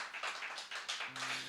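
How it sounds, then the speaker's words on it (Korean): Faint, steady congregation clapping at a church service in an even rhythm, somewhat distant, with a low sustained hum entering near the end. "우리 하나님께 영광의 박수."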